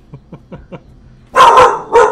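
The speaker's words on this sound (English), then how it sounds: "What are you barking at?" A puppy reacting to neighbouring dogs gives four quick, soft yips close by, then two louder, fuller barks right up near the listener.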